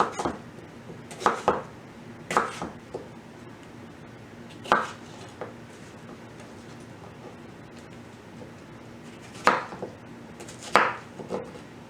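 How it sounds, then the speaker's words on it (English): A knife cuts through green tomato or eggplant on a board, several sharp chopping knocks in irregular clusters with quiet gaps between, close and moderately loud. "I'm going to go ahead and cut this other one"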